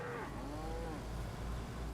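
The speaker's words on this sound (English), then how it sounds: "Oh my goodness, there's cows over here." A cow in the video game DayZ lets out a long, falling moo at the start, then fades into a steady low ambient hum.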